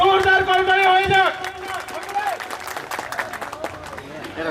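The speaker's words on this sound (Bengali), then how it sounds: "আজকে কৃতি শিক্ষার্থীদের উদ্দেশ্যে একটা জোরদার করতালি হয়ে যাক" A crowd at a raffle draw event in Joypurhat applauds meritorious students, a dense spread of clapping that follows a held announcement voice and continues under brief talk for several seconds.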